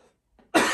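One sharp, close cough bursts out after near silence and a small throat sound, then trails off quickly.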